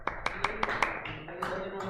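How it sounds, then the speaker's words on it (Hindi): Students in a class clap in a short quick burst of about six sharp claps, then a few scattered ones, under a teacher's voice. "ताली बजा दो, ताली बजाओ जल्दी"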